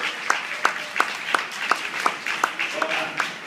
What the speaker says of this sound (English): Big round of applause for the helpers